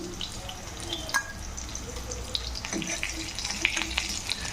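Whole stuffed bitter gourd sizzles and crackles in hot oil, a steady frying hiss with scattered pops, heard up close.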